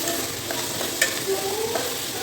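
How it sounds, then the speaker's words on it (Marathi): Chopped onion with chilli sizzles steadily in a hot pan, a close, even frying hiss with faint stirring scrapes. "कांदा व्यवस्थित भाजून घेणार आहे मी"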